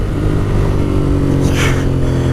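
A 2016 Ducati Monster 821 motorcycle engine drones loudly and steadily at close range, its rev holding high throughout, with no talking.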